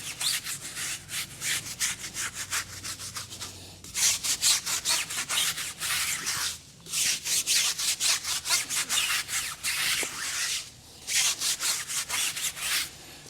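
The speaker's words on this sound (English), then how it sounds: "So we're still getting stuff out of there after a second scrubbing." A brush scrubs a foamy car tire in fast, rhythmic back-and-forth strokes, close and loud, running in bursts with brief pauses between them.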